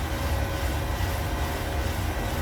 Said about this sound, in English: That sound you're hearing there is the pitch trim, believe it or not.